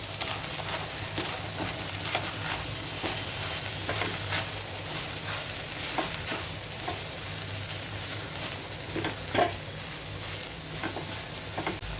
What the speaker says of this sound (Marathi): हे सगळे मसाले मी यात टाकते आणि चांगलं परतवून घेते.